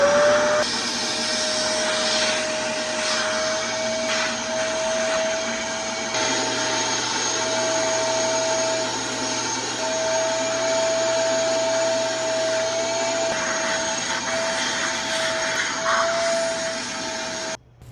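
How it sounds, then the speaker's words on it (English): Steady, loud vacuum cleaner drone with a constant whine, run over wooden end tables to clear sanding dust, its pitch shifting slightly as the nozzle moves, then cutting off at the end. "I vacuumed away any dust hiding in the corners and crevices."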